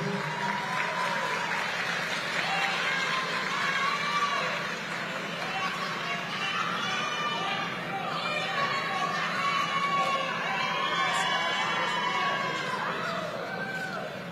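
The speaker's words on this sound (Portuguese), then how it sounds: "Uma salva de palmas, senhoras e senhores." An audience at a public government event in Acre applauds, a dense sustained wash of clapping mixed with crowd chatter lasting the whole stretch, loud and close.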